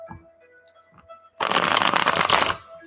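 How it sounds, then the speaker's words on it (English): A deck of tarot cards is riffle-shuffled in one loud, close, crisp burst of rapid flicking lasting just over a second, after a quiet stretch with faint background sounds. "You hear the shuffling? That's because we're shuffling."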